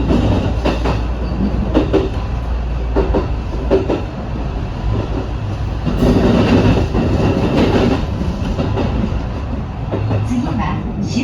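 Yamatoji Rapid train heard from the front cab on the Nara line approaching Kamo, running through open farmland: a loud, steady rumble of wheels on rails with rhythmic clicks at rail joints throughout.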